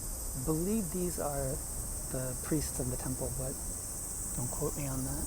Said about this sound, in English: You can probably hear the cicadas crying.